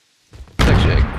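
A grenade goes off in Fortnite Battle Royale: a few soft thuds, then one sudden loud, close blast that rumbles on for half a second.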